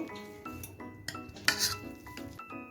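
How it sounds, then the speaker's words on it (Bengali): Boiled potatoes being mashed with a masher in a pot, close uneven clanks and scrapes of metal on cookware with soft squishing, several sharp knocks in a short burst. "এখন আমি একটা ম্যাশারের সাহায্যে আলুগুলো ম্যাশ করে নেব।"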